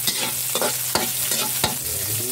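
Food browns in a hot pan for adobong kangkong with fish fillet, a constant bright sizzle broken by several scraping stirs of a utensil, loud and close with no voices.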